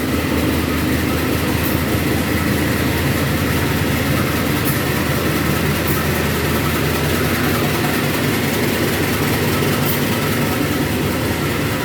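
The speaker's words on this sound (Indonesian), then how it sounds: "Ini yang berangkat adalah kereta api Sawung Gali, teman-teman." The Sawung Gali passenger train departs a station in Cirebon at night, a continuous heavy rumble of engine and rolling wagons filling the whole stretch at steady loudness, with faint high squeals now and then.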